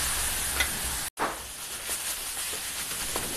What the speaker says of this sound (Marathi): तुपामध्ये फ्राय करून घेणार आहे।